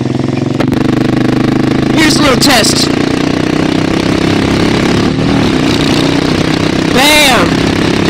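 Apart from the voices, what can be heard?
Suzuki S40 Boulevard motorcycle engine running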